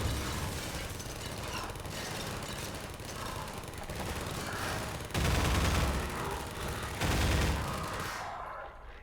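Automated turrets in Half-Life 2 fire at manhacks in long, loud bursts of rapid gunfire, continuous and harsh, with heavier surges partway through before cutting off near the end; no one speaks.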